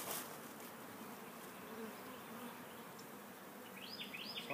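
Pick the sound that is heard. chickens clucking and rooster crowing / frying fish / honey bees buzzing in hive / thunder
honey bees buzzing in hive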